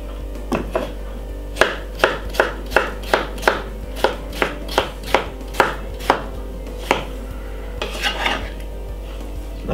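Red onion being chopped on a board with a knife, a steady run of about a dozen sharp, close knocks at an even rhythm, with no talking over it.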